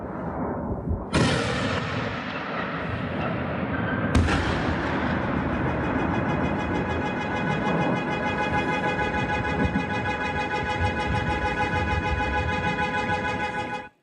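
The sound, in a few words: explosion from a Russian drone attack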